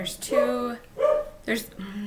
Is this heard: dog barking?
yes